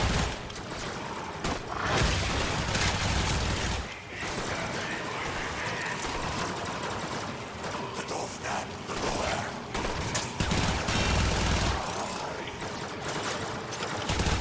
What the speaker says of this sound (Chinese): 听他的枪声很多，现在都变成700多发了。